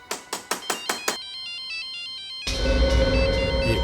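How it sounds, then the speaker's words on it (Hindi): A cellphone ringtone plays: a run of bright plucked notes, then a beeping electronic melody, then a fuller, louder tune taking over. "ये सेलफोन किसका बजा?"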